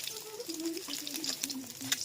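Eggs frying in hot oil in a pan, a soft crackling sizzle heard briefly beneath a person talking.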